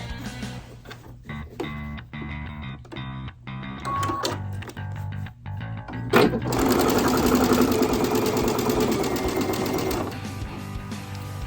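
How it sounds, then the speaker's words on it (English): Sewing machine stitching a quarter-inch seam on quilt strips, starting with short stop-start bursts of rapid needle clatter, then a longer steady run of fast mechanical whirring nearby. "you're going to put right sides together and sew a 1/4 of an inch seam"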